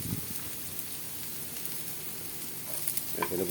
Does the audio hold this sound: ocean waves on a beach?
no